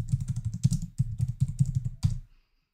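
Typing on a computer keyboard: a quick, close run of crisp key clicks in an uneven rhythm for about two seconds, then stopping into silence, with no talking.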